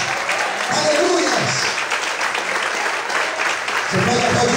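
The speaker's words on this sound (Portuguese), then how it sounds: "Vamos podem aplaudir e glorificar a Ele nessa noite." A church congregation applauds during an evening service, with loud, steady applause throughout and voices speaking and calling out over it.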